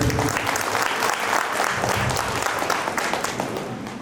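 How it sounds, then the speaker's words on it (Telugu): A crowd at a school batch reunion applauds the teachers with loud, sustained, dense clapping that carries on for several seconds. "మన గురువులకు మన సార్లకు గట్టిగా చప్పట్లు కొట్టండి"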